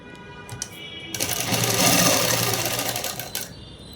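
A sewing machine stitches a shirt, its motor whirring up into a loud, rapid continuous run for a couple of seconds before slowing, with a few short clicks and handling bumps around it.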